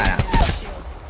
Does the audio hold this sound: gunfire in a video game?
yes